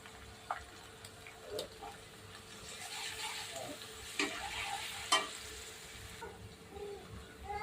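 Ginger garlic paste fries with golden brown onions in a pan for gongura chicken, a soft continuous sizzle broken by occasional stirring scrapes and clicks, close and fairly quiet.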